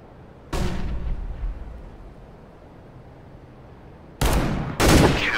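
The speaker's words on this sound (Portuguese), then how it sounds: "Throwing flashbang" A flashbang grenade goes off during a competitive match of Counter-Strike: Global Offensive, a sharp broadband burst near the start, then two more loud bangs close together near the end over a low game rumble.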